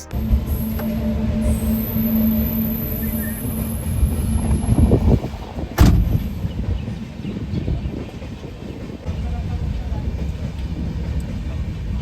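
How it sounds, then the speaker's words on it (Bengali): Train 15643 Up Puri Kamakhya Express passes the Sevoke rail gate with a steady rolling rumble, some wheel screech and a sharp clank midway, sounding fairly close with a faint high hiss above it. "আর ঠিক তখনই পার করছে 15643 আপ পুরী কামাখ্যা এক্সপ্রেস"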